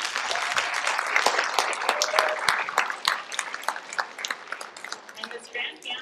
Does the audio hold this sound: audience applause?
yes